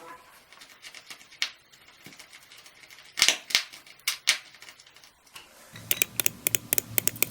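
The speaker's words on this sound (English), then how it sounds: "It has a base you screw into the wall, like so." Mounting base being screwed into a bathroom wall during a renovation, heard as scattered close clicks, scrapes and taps, busier near the middle, ending in a run of quick sharp ticks.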